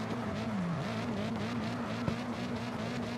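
Engine note of a drift car in CarX Drift Racing Online 2, an SR-powered build, holding a steady droning tone with slight pitch dips, loud and continuous throughout with a brief click midway and no talking.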